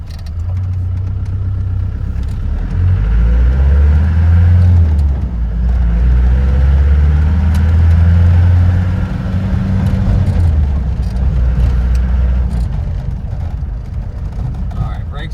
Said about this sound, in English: let's just take her through the gears real quick, and we'll show you how she runs and drives